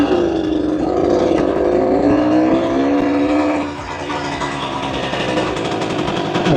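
A 1965 Suzuki K10 motorcycle, revived after sitting fifteen years, runs after a push start. Its small engine holds a steady buzzing drone close by that shifts slightly in pitch and eases off a little partway through.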